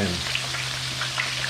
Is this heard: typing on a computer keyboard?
no